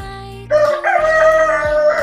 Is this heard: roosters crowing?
yes